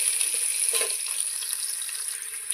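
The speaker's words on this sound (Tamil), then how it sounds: "வெங்காயம் போட்டாச்சு." Chopped onions sizzle steadily in a hot pan for a biryani, a soft, continuous crackling hiss with no voices.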